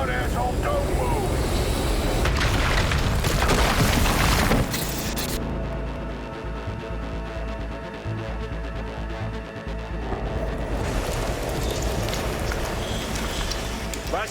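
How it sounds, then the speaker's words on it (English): A flashbang grenade goes off in Cyberpunk 2077: a loud burst of blast noise, then a sudden muffled drop to a ringing, dulled soundscape that slowly swells back; a voice speaks over it. "I'm actually getting flashbang right now"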